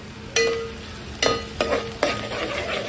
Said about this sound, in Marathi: मी आता हा कांदा जो आहे कांदा टाकू आपण